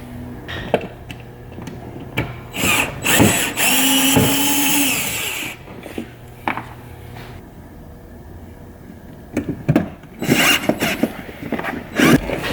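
Screws are driven out of the seats of an Acura TL with a power tool, in short whirring bursts separated by pauses and small clicks and handling noises, close up and with no talking.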